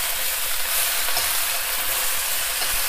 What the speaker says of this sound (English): We'll be frying this for about 4 to 5 minutes so the white bit becomes soft.